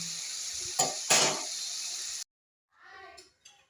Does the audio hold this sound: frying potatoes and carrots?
yes